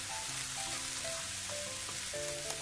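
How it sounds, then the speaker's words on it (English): Soy sauce hisses and sizzles along the edge of a hot pan of shrimp fried rice, a steady, fairly quiet frying crackle with no one speaking. "Add soy sauce along the edge of the hot pan."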